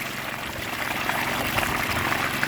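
Water from a 2 HP well pump pours out steadily, a continuous broadband rush with a constant level and no talking.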